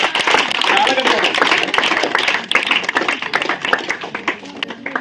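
Students clap in a classroom during a spelling test, a dense, uneven patter of hands that thins out toward the end while someone speaks.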